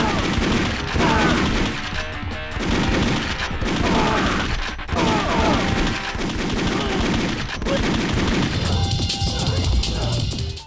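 Rapid PS1 video game gunfire crackles almost nonstop, mixed with impacts and enemy death noises, loud and dense throughout.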